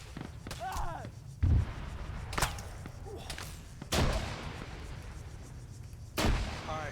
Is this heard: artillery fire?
yes